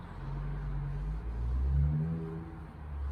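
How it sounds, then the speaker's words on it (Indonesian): Traffic rumbles by on a nearby main road in Germany, heard through an open window, with a car's engine swelling and whooshing past midway before the steady low hum returns. "Karena banyak mobil lewat"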